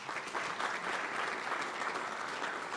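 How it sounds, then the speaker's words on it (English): An audience applauds a board member in a hall, with dense, steady clapping from many hands throughout, moderately loud and with no voices on top. "So if we could give him a round of applause."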